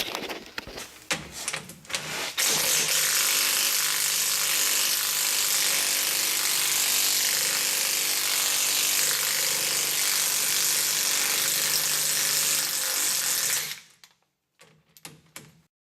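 A power tool removes the eight Loctite-held axle backing plate bolts on a 2003 Dodge 2500 pickup: a few sharp clatters, then a long steady loud whir that cuts off abruptly, followed by faint clinks.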